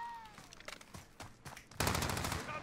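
Gunfire in the video game Call of Duty Warzone: a spaced series of sharp shots that breaks into a dense, loud burst of rapid automatic fire near the end.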